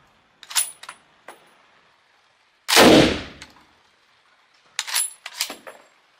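Several close, sharp gunshots from a restored old rusty rifle firing reduced-pressure rounds: one dominant loud crack with a booming tail, surrounded by lighter metallic clicks and clatters of the action, with quiet gaps between.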